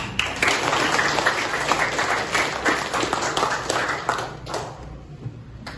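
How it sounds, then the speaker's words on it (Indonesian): A room full of people at a group presentation session claps steadily in sustained applause that holds for several seconds before thinning out at the end. "Ya, tepuk tangan dulu semua"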